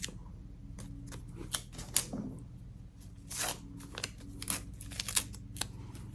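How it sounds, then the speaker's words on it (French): Backing paper is torn away from freshly sewn buttonholes on a blouse in short, crisp ripping bursts at close range, scattered irregularly over a quiet background. "il n'y a plus qu'à enlever le papier."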